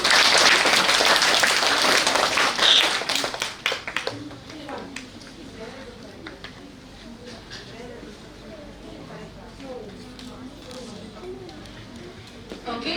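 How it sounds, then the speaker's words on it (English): A crowd of students at a school quiz claps loudly for a few seconds, then the applause fades into scattered claps and background murmur. "round of applause"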